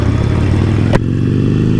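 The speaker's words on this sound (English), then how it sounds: "there are motorcycles everywhere, all converging on Daytona Beach Main Street for Bike Week 2019" Motorcycle engines rumble loudly and close during Bike Week 2019 in Daytona Beach, Florida, with a sharp clatter midway as a bike passes.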